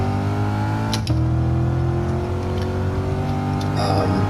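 A Chevrolet C8 Corvette engine pulls steadily through S-bends on a cone-marked track course, a close, continuous droning note with a brief shift in pitch early on.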